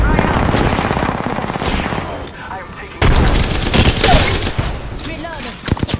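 Video game gunfire: loud, rapid automatic bursts crackle close by, ease into a brief lull, then erupt again in heavier, denser firing.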